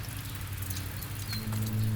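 Rain falling outdoors during a bicycle tour at the Czech border, a soft continuous patter with scattered drops and a low steady hum underneath, no voices.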